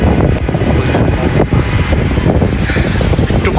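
Wind gusting outdoors near a metro station during a harsh Russian winter around -30°C, blowing snow from the trees; a steady, close roar of broadband rushing air with microphone buffeting, no talking.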